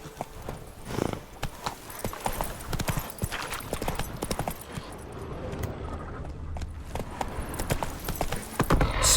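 Hooves of the horse Roach in The Witcher 3 clop in a steady trotting rhythm, close and fairly loud, with faint tack jingling and a low ambient background.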